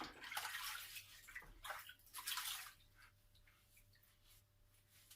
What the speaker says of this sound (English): I'll be a good girl and wash my hands